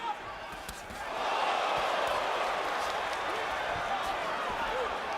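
A boxing crowd in Atlantic City roars after an exchange between Sergio Martinez and Paul Williams, the cheer swelling after the first second and staying loud and sustained to the end.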